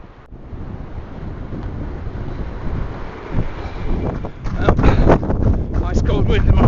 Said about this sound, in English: Ice cold wind in my face now, all the way back.